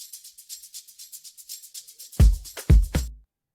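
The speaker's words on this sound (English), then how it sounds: "And I also added a shaker loop." A bright, rapid shaker loop ticks steadily in an Afro tech house production, then stops as a few deep, booming drum hits come in near the end with no voices.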